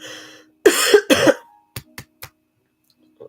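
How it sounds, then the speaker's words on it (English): Two harsh, loud coughs in quick succession from a person nearby, followed by a few short, quieter throat sounds and then silence. "God, I still got this horrible cough."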